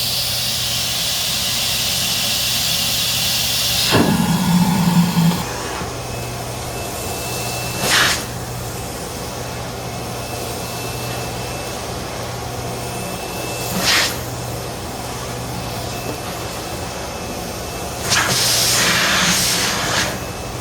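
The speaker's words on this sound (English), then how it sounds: "That's the Proteam Runningvac." A Proteam Runningvac backpack vacuum running through an airflow test, a loud continuous whooshing hiss with a steady motor hum, broken by several brief surges and bursts of rushing air.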